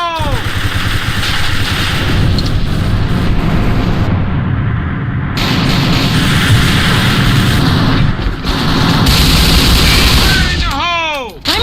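Grenade blasts and gunfire in the shooter game AVA, a demolition match on the Dual Sight map: loud sustained booming and crackling fire with bursts, game voice callouts over the din.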